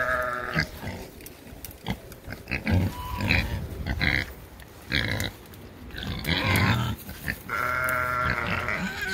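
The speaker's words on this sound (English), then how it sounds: "Hi, pigs." Pigs grunt and squeal repeatedly in a busy, noisy pen, with overlapping calls close by and little pause between them.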